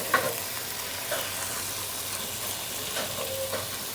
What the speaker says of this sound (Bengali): পেঁয়াজটা হালকা ভেজে নিলাম